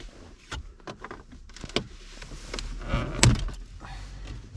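A Ford Focus MK2 stereo trim panel is prised out with a plastic trim tool, giving a few close, sharp cracks and a loud snapping pop near the end, set against faint handling noise.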